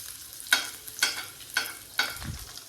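A spoon scrapes and stirs ghavan batter in a pan on a switched-off gas stove, four evenly spaced strokes about half a second apart, each a brief close swish over faint background hiss.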